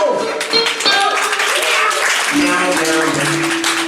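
Audience applause for a band's drummer being welcomed forward, a short dense patch of clapping mixed with a voice and lingering tones, fairly close and loud.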